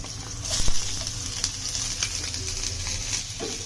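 Chopped onion and garlic frying in hot oil in a pan, a steady close hiss with a few soft clicks and stirs near the start.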